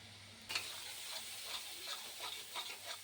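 Boal fish curry sizzles in a pan, a steady bright frying hiss that starts abruptly and carries on with small crackling bursts and faint stirring clicks, close and moderately loud.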